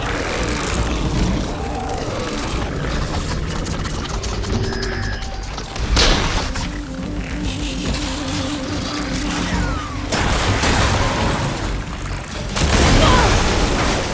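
Glowing crystals detonating in Horizon Forbidden West: Burning Shores, loud mechanical clanks and rattling gear-like sounds with sharp bursts, dense and continuous throughout.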